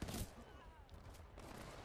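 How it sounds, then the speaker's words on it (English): Burst-fire gunshots from a weapon in the video game Titanfall 2, played on Xbox One: dense, loud volleys of shots that run almost nonstop, with the heaviest blast at the start. "Oh, it's a burst weapon."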